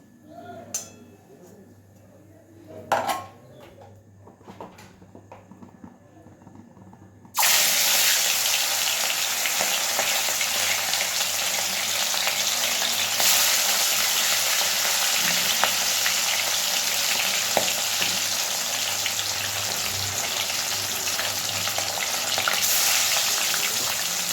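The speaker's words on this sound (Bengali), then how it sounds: "এবার আমরা লবণ হলুদ মাখানো মাছগুলো ভেজে নেব।" After a few quiet knocks and clinks, fish coated in salt and turmeric drops into hot oil and fries with a sudden, loud, continuous sizzle that holds steady.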